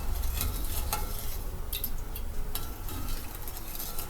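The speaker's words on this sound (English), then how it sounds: "we're going to stir the sugar and the water and the lemon juice until it gets to a boil" Sugar, water and lemon juice stirred in a pot on the stove, a steady scraping and swishing of the spoon with faint ticks against the pot's sides, close and continuous with no talking.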